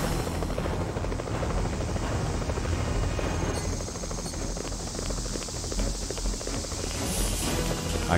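A helicopter in the video game X2: Wolverine's Revenge drones continuously, a dense, loud rotor roar with steady chopping throughout, mixed with game noise.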